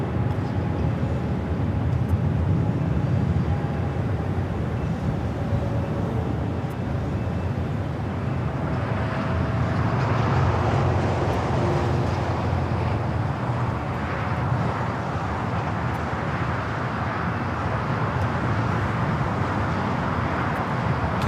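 A Cathay Pacific Boeing 777-300ER taking off from runway 24 Left at LAX, a loud sustained jet roar that swells in the middle and then slowly fades, with no voices.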